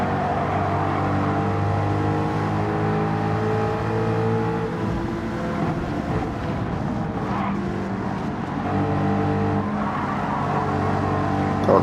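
Racing cars in Gran Turismo 7, a Mustang and an NSX, roar loudly and continuously with sustained engine drone and revving, plus a stretch of tire squeal midway, with no talking.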